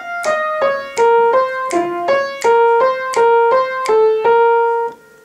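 Solo piano plays the repeating lead keyboard line from the second half of a song, a steady series of clear, evenly spaced notes with some held chords, close and fairly loud, ending with a sustained final note.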